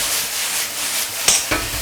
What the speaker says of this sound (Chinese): 好，炒香锅下入这个肉丝，给它翻炒一下